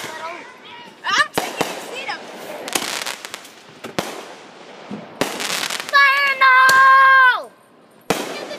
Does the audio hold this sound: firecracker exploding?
yes